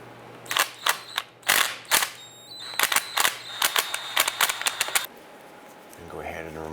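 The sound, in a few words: removing drive shaft bolts with number 6 Allen head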